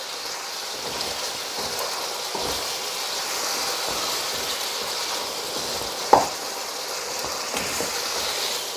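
Chicken white karahi spices, including coriander powder, cumin and white pepper, fry and sizzle in a pan with a continuous crackling hiss, broken by occasional scrapes and clinks of stirring, including one sharp knock.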